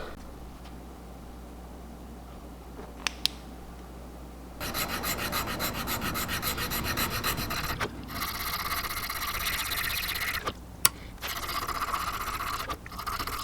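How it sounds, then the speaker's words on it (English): A handmade wooden fishing bait is rubbed briskly after a quiet start, making close, steady rasping strokes in several bursts with brief pauses and a few sharp clicks between them. "I just like rubbed the bait."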